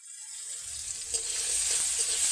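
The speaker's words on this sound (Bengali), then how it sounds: "তেলে দিয়ে দেবো 1 মুঠো টমেটো কুচি" A handful of chopped tomato tipped into hot oil, erupting into a steady, bright sizzle that swells and holds close and loud, with faint stirring scrapes underneath.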